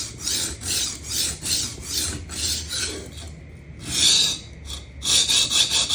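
A kitchen knife is sharpened freehand on Atoma diamond stones. Rhythmic rasping strokes scrape back and forth close up in a steady series, with a short pause in the middle before the strokes resume, and no talking.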